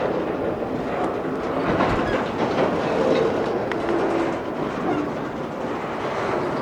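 A long Union Pacific freight train rolls steadily past nearby, with a continuous rumble and rhythmic clacking of wheels over rail joints throughout.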